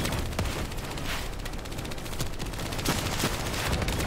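Rapid bursts of automatic gunfire in the Call of Duty Black Ops 3 video game, dense repeated shots with sharp cracks standing out, loud and continuous throughout.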